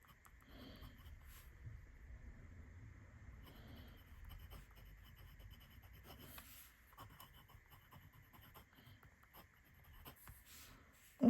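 A fountain pen writes with Diamine ink on paper, giving faint, continuous scratchy strokes close by with small pauses, ending in a short louder knock.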